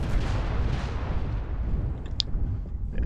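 Incoming missile barrage in the video game MechWarrior Online, heard as a dense, loud run of rumbling impacts and blasts with a sharp brief ping near the end.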